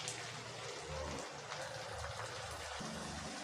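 Ground ripe tomato paste hitting a hot pan for egg gravy, giving a steady broadband sizzle and hiss that holds evenly throughout with no talk.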